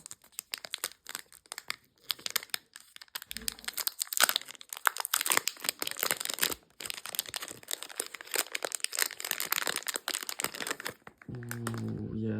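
Plastic and cardboard packaging of a DJI Osmo Action 4 action camera crinkles and tears up close in dense, continuous bursts while it is unwrapped, ending with a brief low tonal hum.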